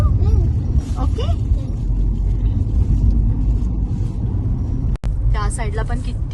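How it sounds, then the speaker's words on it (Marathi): Road traffic is heard from inside a car on a drive from Nashik to Pune. A constant low rumble of the engine and road runs throughout, with people talking inside the cabin. "त्या साईडला पण किती ट्रॅफिक आहे"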